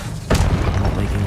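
Confringo spell blast in Hogwarts Legacy: a single sharp, punchy boom that hits abruptly and fades over about a second against steady background game sound.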